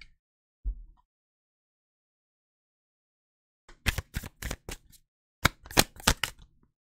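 Tarot cards being shuffled and pulled for a pick-a-card reading: two close bursts of crisp riffling, flicking snaps and card slaps, with a faint soft thump early on and silence between.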